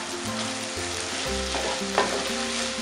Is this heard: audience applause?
no